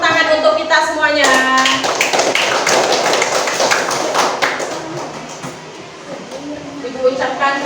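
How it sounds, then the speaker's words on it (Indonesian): Sixth-grade classroom applauding, a burst of many hands clapping close by that swells and then tapers off, with a teacher's voice heard before and after. "Berikan tepuk tangan untuk kita semuanya."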